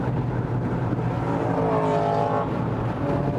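A sports car driven fast on a race track, engine droning loud and steady from inside the cabin, with a rising then falling rev sweep in the middle.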